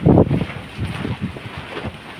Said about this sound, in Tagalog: Mahangin talaga dito.